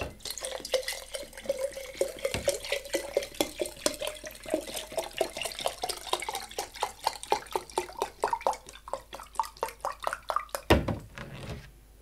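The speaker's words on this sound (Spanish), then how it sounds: "Luego de hacer eso le pones agua desmineralizada." Demineralized water poured into a battery-like cell over its plates and coils, a steady trickling stream with rising pitch as the container fills, bubbling and dripping throughout, close and alone with no talk.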